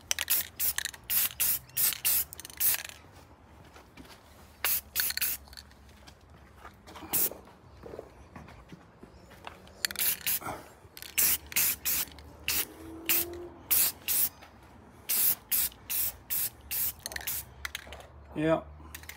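A fire extinguisher is spray painted black in a series of short, sharp hissing aerosol bursts with brief pauses between them, heard close up with faint handling noises.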